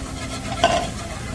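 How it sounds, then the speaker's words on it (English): A whisk stirs flour into hot gravy in a pan to break up lumps, giving a soft, quick scraping swish against a faint sizzling background, brief and close. "Constantly whisking out all those lumps."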